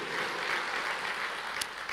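Church congregation applauding together, a steady dense wash of clapping with no pauses across the whole stretch.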